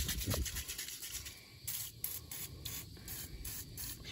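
Easy Off oven cleaner spits from a nearly empty aerosol can onto a car wheel in short, faint, sputtering hisses repeated several times, close to the listener, with no one speaking.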